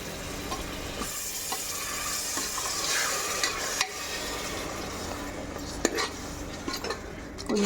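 Curd and chicken korma masala sizzle steadily in a pan as a spoon stirs and scrapes through it. The frying hiss is loud and continuous, with occasional metallic taps against the pan.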